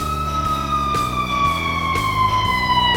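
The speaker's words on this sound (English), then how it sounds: "I bet this is the ambulance." An ambulance siren wails steadily with a repeating two-tone pattern, loud and close, with no talking.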